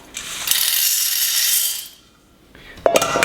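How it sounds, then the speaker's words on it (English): A grain mill cracks soybeans in half, giving a loud, gritty rattle and whir that cuts out into near silence before a clattering restart. "what I'm grinding is these soybeans"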